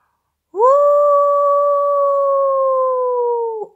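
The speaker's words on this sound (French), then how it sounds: "on entendit des hurlements de loup" A single wolf howl held for about three seconds, rising quickly, staying steady and dropping off at the end, clear and close with nothing else around it.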